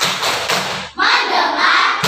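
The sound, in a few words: class clapping the "tepuk fokus" rhythmic clap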